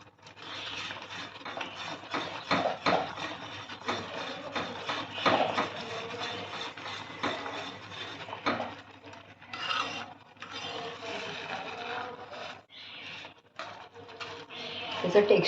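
A spoon stirs moong dal halwa in a pan, making repeated close scraping and rubbing strokes against the metal while a voice talks over parts of it.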